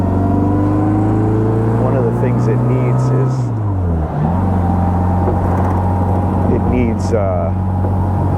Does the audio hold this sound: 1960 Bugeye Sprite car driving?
yes